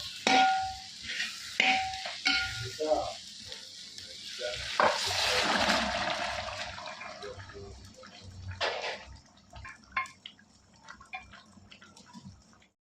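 Beef frying and being stirred into a tomato masala in a pan for beef varattiyathu, with a steady sizzle, intermittent spoon scrapes and stirring clatter, close and moderately loud, no talking.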